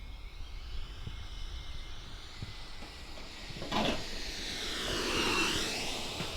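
An 80mm X-Fly Sirius electric ducted-fan RC jet hisses and whines overhead on a shakedown flight. The jet rises in pitch and loudness as it passes close, then sweeps away, and no one is heard talking.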